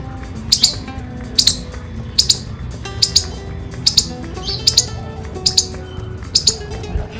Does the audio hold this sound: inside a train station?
no